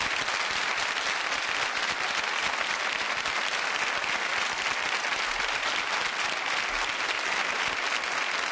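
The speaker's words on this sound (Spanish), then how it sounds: "¡Un aplauso para el primero!" A studio audience on the Spanish TV show Qué Apostamos gives dense, sustained applause, a steady roar of many hands clapping at even intensity for several seconds with no voices over it.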